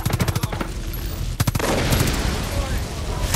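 Rapid automatic gunfire in Far Cry 5, a loud burst of evenly spaced shots at the start, another quick volley midway, then a sustained roaring clatter of weapons and game sound.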